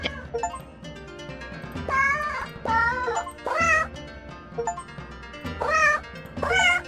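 Cartoonish cat meows from the video game 100 Asian Cats, a series of loud, drawn-out meows repeating over a steady background music bed, with no talking.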